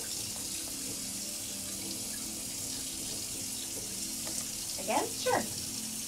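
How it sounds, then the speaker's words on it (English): Someone rinses and spits into a sink during a teeth whitening service, with a steady background hiss, a few words of speech, and two short splashy spits near the end. "Just rinse and swish and spit in the sink."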